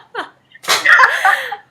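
A single sharp sneeze close to the microphone, preceded by a brief inhaled catch, the burst lasting under a second and ringing slightly before fading.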